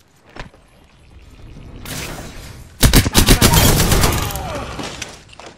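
Apex Legends gunfire bursts out in rapid, loud volleys after a quieter buildup, several sharp shots clustered near the middle and then a sustained rattle of automatic fire that trails off.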